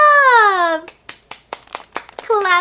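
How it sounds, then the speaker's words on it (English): Hands clapping in a children's video being played back: a handful of crisp claps in a loose rhythm, framed by singing children's voices before and after. "Clapping. This is clapping."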